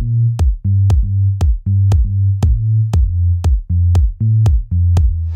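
A deep house bass line plays alone, loud and close: a repeating pattern of deep, punchy notes with sharp attacks, each followed by a short sustain, in a steady groove with small melodic shifts.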